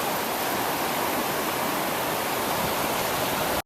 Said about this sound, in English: there's a lot more water flowing right now